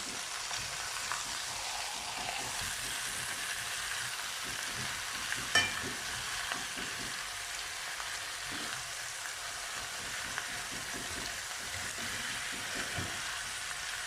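Chicken pieces sizzling and frying in a pan, a steady soft crackle with occasional spatters and a brief clink of a utensil partway through, with no voices.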